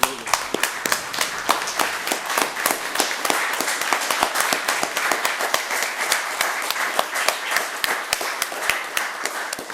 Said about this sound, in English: We're still going to give her a round of applause.